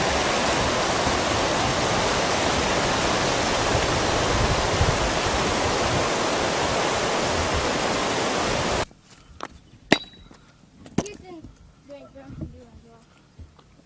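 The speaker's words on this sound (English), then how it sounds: "A rushing river with white water and rapids flows through the frame." Loud, steady roar of rushing white water fills most of the stretch, then cuts off abruptly to quieter scattered knocks and faint sounds.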